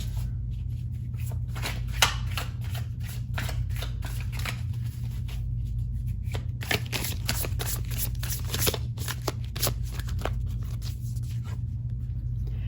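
Tarot cards are shuffled and drawn by hand, giving a steady run of soft papery riffles, slides and flicks over a low constant hum, close up with no talking.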